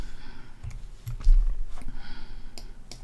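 Keyboard shortcut keys pressed on a computer keyboard, with a few sharp clicks and taps spread over a few seconds against a low room hum.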